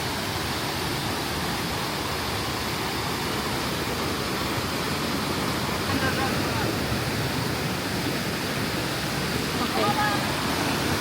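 A waterfall roars in a continuous, loud, broadband rush, steady throughout and close by, with faint voices barely surfacing under the water noise.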